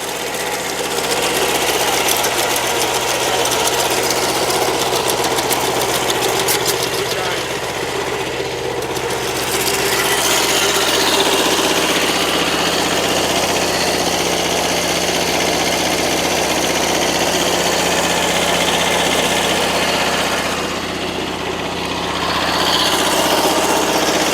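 A tractor engine idles and runs steadily nearby, a constant droning rumble with slight dips in level, no voices.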